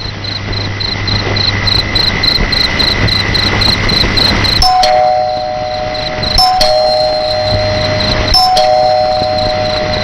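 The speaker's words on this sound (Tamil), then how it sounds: "ஏயா காலிங் பெல் அடிச்ச?" A doorbell chimes three times in a Tamil film scene, each ring a clear, sustained tone that slowly decays, over a steady background of chirping crickets.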